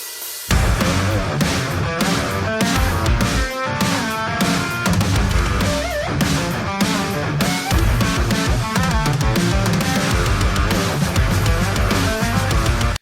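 Main riff of a song, played loud and dense on band instruments with driving repeated chords and steady pounding drums, running continuously after a brief quiet opening.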